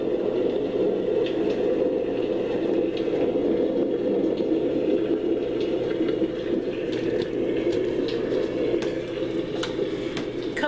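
A white noise sleep machine plays its thunderstorm setting as a dense, steady rain-like roar with a low rumble, constant and loud throughout, with faint scattered higher patters.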